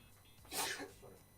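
One quick sneeze, fairly close and sharp, bursts out during a talk-show discussion over faint room background.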